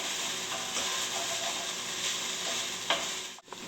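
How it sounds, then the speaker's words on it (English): Onions sizzle steadily in a hot pan, a dense close crackle with a brief scrape of stirring near the end. "you can hear the onions really sizzling"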